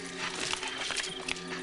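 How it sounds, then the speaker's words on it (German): Horse hooves clip-clopping, a brisk irregular run of near hoof knocks over a steady background hum, with no talk. "Das ist doch Babys Pferd, oder?"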